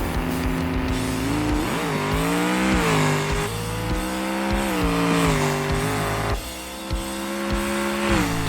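Nitrous-boosted drag car in BeamNG roaring hard down the strip, engine pitch climbing through several gear shifts with brief dips between, loud and close with a hint of tire squeal.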